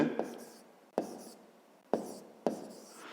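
Pen or chalk strokes write a math answer on a surface in a few distinct scratchy bursts, each starting sharply and fading, close and fairly quiet.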